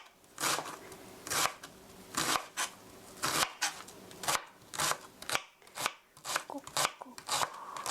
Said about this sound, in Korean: 양파 2개는 다 썰었습니다